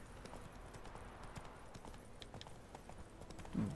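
A horse gallops in the Witcher 3: Wild Hunt video game, its hooves beating a quick, steady clip-clop rhythm close by over a low ambient bed, ending on a brief louder snort or whinny.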